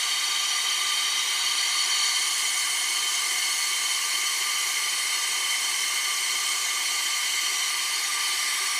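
A vacuum pump runs on a 2006 Dodge Caravan air conditioning system with a constant, loud hiss and steady tonal hum, unchanging throughout with no pauses.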